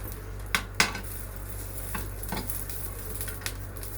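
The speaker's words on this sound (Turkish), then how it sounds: "Yağ koymadan közlüyorum arkadaşlar." Vegetables roast in a dry pan with no oil, a low steady sizzle under a few sharp scraping and clinking stir strokes near the start.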